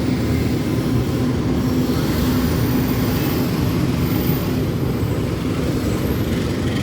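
A passing parcel train rumbles loudly and continuously near the railway line, with a steady low rolling roar and faint wheel squeal, and no voices.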